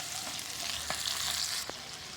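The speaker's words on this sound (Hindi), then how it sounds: "अब मैं इसके अंदर ये टमाटर, कटे हुए टमाटर शामिल करूँगी बिस्मिल्लाह, और इनको अच्छी तरह मिक्स कर लूँगी" Chopped tomatoes are stirred into a garlic-ginger paste in a hot pan, giving a soft continuous sizzle with a few scraping strokes of the spoon.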